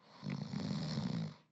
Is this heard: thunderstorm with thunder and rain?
no